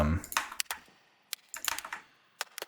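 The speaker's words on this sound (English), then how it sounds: "this is actually the sound of me taking my belt and then like folding it over itself and like pulling it taut, so it like makes a slapping sound" Leather belt folded over itself and yanked taut, producing sharp slapping snaps: a cluster early on, then isolated cracks and a quick burst of several near the middle and end, close and dry with silence between.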